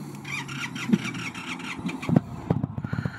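A motorcycle engine cranks and starts after its check engine light has been on, with a steady mechanical hum, sharp ticks and a few uneven thumps building toward the end, recorded close by.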